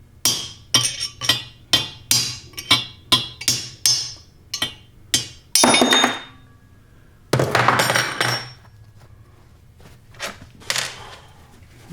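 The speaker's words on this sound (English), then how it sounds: "now what I'm going to do is punch out that inside race" Sharp metallic hammer blows ring out one after another, punching the inner bearing race out of a Dana 44 housing. A scraping, rattling clatter follows, then a few scattered taps.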